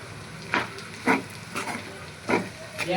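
Dried onion goes into a pan of cooking green turmeric curry and sizzles while being mixed. Soft frying hiss runs under five or so brief scraping bursts from stirring at a steady pace.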